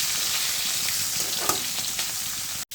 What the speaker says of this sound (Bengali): অবশিষ্টগুলো আমি একইভাবে ভেজে দিলাম